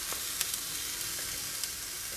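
Chili pakora filling sizzles in a pan as it is stirred, a steady close hiss with a few faint scrapes and no talking.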